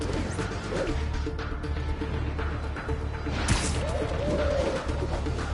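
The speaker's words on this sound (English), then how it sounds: "A pigeon! Don't fly away, please!" A pigeon coos softly in short rounded calls in an outdoor setting, set against a steady background hiss and hum, with a brief rustle partway through.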